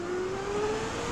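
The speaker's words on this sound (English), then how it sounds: "That acceleration is phenomenal." A 2018 Zero DSR electric motorcycle accelerates hard, its motor giving a smooth rising electric whine over rushing wind, fairly faint and brief.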